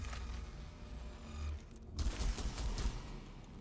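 Units in the Warhammer 40K Mechanicus video game opening fire: a dense, crackling burst of rapid shots breaks out midway and keeps going over a low rumble of game noise.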